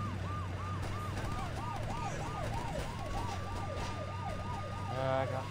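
A police siren in the video game Saints Row wails in a rising and falling cycle over a low engine drone, continuous and fairly loud.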